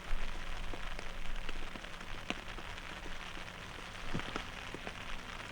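Rain falls steadily on a wooded disc golf course, a soft continuous patter with scattered sharper drops tapping nearby surfaces and no voices.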